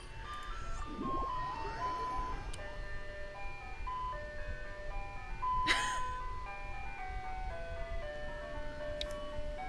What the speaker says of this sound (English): Do you hear the ice cream truck?